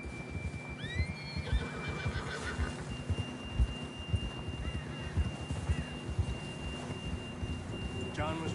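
A horse whinnies in Red Dead Redemption II, a couple of high neighs early on over a continuous bed of rumbling hoofbeats and game ambience, with a steady electronic tone running underneath.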